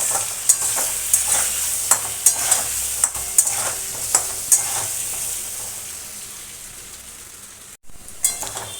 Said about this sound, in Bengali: আলুটা লাল লাল করে একটু ভেজে নেব।